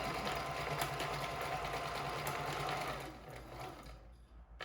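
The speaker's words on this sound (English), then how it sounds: "sew along the mouthpiece line" A sewing machine stitching along the mouthpiece line of a homemade fabric face mask runs steadily up close with a constant whirring hum, then slows and stops near the end.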